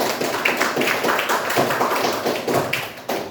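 A classroom of students claps in applause for a student during a lesson, a steady dense patter of hands lasting throughout at close range with no talk over it.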